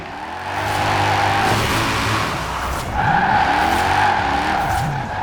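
A 2010 BMW M3 GTS with rear-wheel drive and a drift build skids in Forza Horizon 4, its tires squealing loudly and continuously over a revving engine in two long slides.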